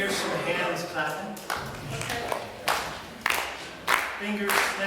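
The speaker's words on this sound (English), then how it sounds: "I want to hear some hands clapping." Audience hands clapping on a variety show, a steady patter of claps running through the clip with louder bursts, mixed with voices in the room.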